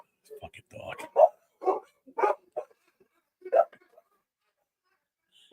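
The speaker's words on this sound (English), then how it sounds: "I think I'm in a dog pound right now." A dog barks at close range in a burst of short, sharp barks and yips, with quiet gaps between them.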